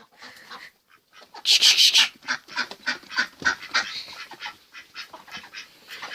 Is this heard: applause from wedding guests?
no